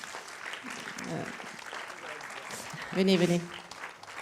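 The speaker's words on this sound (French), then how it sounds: "Je peux l'applaudir." Audience applause for a film editor at a film screening with the team present, clapping from the room while people talk, swelling louder near the end.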